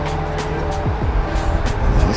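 Car engines and exhausts rumble at a car meet, with a GT500 among the cars, giving a steady loud drone with rougher bursts and rising revs toward the end.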